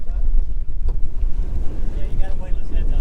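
Strong wind buffets a fishing boat out on Islamorada's backcountry waters, roaring and gusting close against the microphone with low rumbling surges, with a voice speaking briefly over it.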